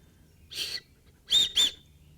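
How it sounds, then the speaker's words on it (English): A shrill emergency whistle on a survival backpack sounds once, then twice more in quick succession, loud and close in an otherwise quiet setting. "It's got an emergency whistle here,"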